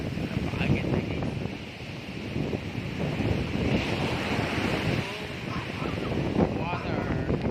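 Sea waves roll and crash at Pagudpud beach while strong wind buffets the microphone, a loud continuous roar with surging swells and a voice faintly underneath.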